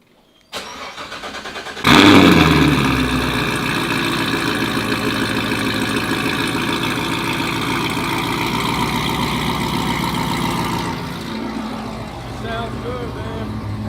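A Chevrolet Corvette C7 Z06 fitted with a Stage 2 front splitter cranks with a brief starter whir, then fires into a loud, steady, deep idle that holds for about ten seconds before dropping slightly in level.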